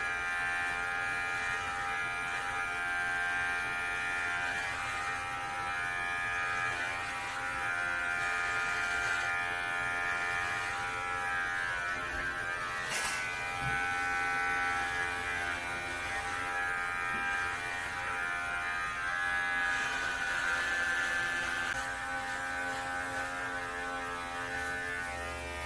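Electric razor buzzing steadily through head hair, a constant close hum with slight shifts in pitch as it moves, one brief knock midway, no speech.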